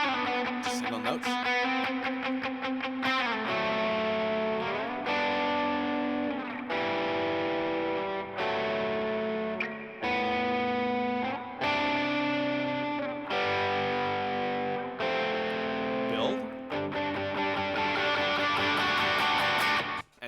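An electric guitar runs effects such as distortion, chorus and reverb and plays single-note lines from a song's chorus progression, sustained notes ringing in a steady rhythm for about twenty seconds, close and loud with no talking.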